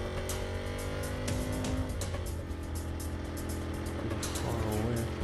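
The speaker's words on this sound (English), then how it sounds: "Car getting to high gear." Engine of a car in the Watch Dogs video game revs hard and climbs through the gears, a loud continuous roar with rising and dropping pitch and occasional tire noise, no talk.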